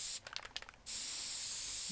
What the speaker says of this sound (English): It's a spray paint.